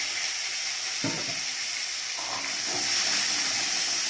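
Potatoes frying in hot mustard oil in a kadai give a steady, close sizzle throughout, with a few soft stirring knocks and bursts of crackle partway through.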